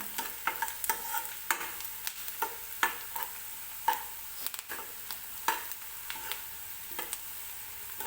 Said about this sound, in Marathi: कांदा तेलामध्येच भाजून घ्यायचा आहे